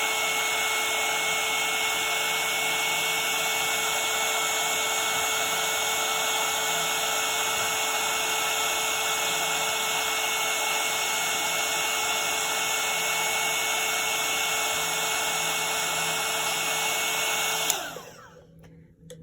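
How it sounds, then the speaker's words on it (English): A heat gun blows hot air onto gold embossing powder on handmade wedding name cards, a loud, even, close blowing hum that runs for about seventeen seconds before cutting off abruptly. "the heat gun, and we're just going to apply it directly to where we have the embossing powder"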